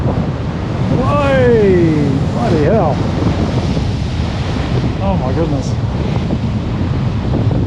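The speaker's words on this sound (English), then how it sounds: "Hey, look at the waves." Large ocean waves crash and surge against rocks on the NSW Central Coast in Australia, a loud rushing roar with wind buffeting the microphone while people nearby exclaim in surprise.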